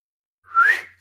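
A single rising whistle from a person, one clear short note that slides upward, loud and close against silence.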